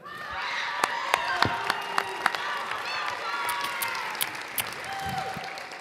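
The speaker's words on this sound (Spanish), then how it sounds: "Fuerte los aplausos." Loud, sustained applause and clapping from an audience at a singing audition, with scattered sharp claps and some cheering forming a dense, continuous wash of sound.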